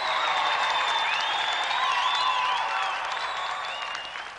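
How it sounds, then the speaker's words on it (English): An audience applauds a game show competitor: dense, steady clapping from a crowd that holds strongly and then tapers off slightly toward the end, with no talking over it. "Another round of applause for our gallant competitor"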